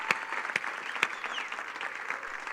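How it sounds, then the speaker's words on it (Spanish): Church congregation applauding during a Sunday morning service, a brief patter of clapping with a few sharper claps standing out, fairly faint and distant, no voices over it. "¿Puedes darle ese aplauso a Jesús en esta mañana?"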